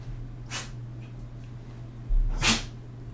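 Two quick, breathy sneezes a couple of seconds apart, close by, over a low steady background hum.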